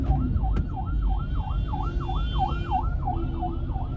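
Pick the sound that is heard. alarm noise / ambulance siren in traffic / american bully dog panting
ambulance siren in traffic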